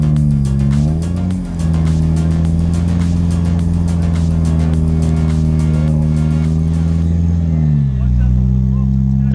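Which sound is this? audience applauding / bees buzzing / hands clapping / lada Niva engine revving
lada Niva engine revving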